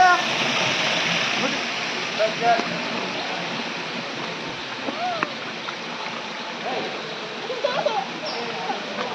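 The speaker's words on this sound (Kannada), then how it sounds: "ಜಲಪಾತದಲ್ಲಿ ನೀರು ಕ್ಷೀಣವಾಗಿದೆ" A low-flowing waterfall beside the Bhairaveshwara temple in Andhra Pradesh during the dry summer gives a steady, broad rush of falling water with light splashes, while people talk nearby over it.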